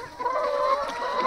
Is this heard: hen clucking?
yes